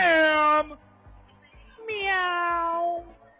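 Two drawn-out cat meows, loud and close, separated by a short pause with faint thumps in between.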